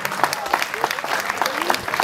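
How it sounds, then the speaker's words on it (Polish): Crowd applause at an award ceremony for a ten-kilometre running race, steady clapping from many hands with a voice on a loudspeaker talking over it. "brawa, tak gorące brawa"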